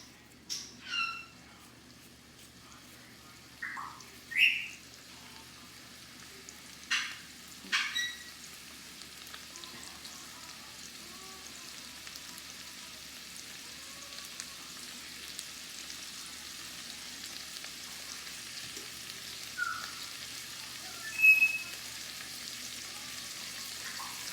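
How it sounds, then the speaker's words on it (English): Bite-size pieces of steak fry in a pan for Swiss steak with onions and peppers, giving a soft steady sizzle with a few brief scraping stirs. "Back on the heat now. And stir these around."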